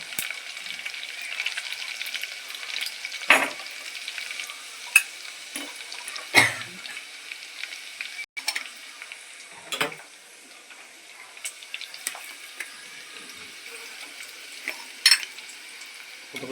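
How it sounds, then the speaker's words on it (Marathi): Onions fry in a pan with a soft, continuous sizzle, punctuated every few seconds by brief scrapes and taps of a spoon stirring, close but fairly quiet, no voices. "थोडंसं लाल होईपर्यंत आपल्याला त्याला फ्राय करायचं कांद्याला"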